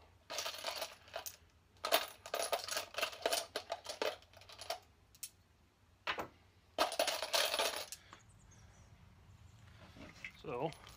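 Wet brass cartridge cases are shaken and set down on a truck tailgate, making bursts of metallic clinking and jingling close by, with someone talking briefly near the end.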